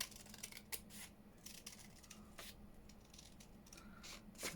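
Scissors snip through paper in a quiet room, a series of short, crisp cuts scattered irregularly across the moment, faint and close, with no talking.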